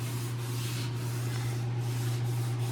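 Steady, continuous abrasive rubbing of 120-grit garnet sandpaper on a laminate countertop, close and even, with a constant low hum underneath and no talking.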